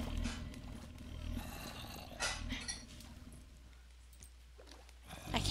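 A dinosaur-like sea monster in a video game lets out a few rough, growling roars, fairly faint and separated by short pauses, with a low rumble underneath.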